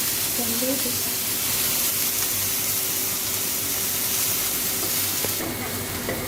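Onions and capsicum fry in a pan for a Thai shrimp soup, giving a steady, close hiss and sizzle that runs unbroken throughout, with a voice briefly audible near the start.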